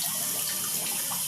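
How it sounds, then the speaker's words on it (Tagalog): Tap water pours steadily into a drum, a continuous broadband rush and splash that stays fairly loud and close for the whole moment, with no speech over it. "Inaantay natin siya para pag mapuno na itong tubig na ang drum"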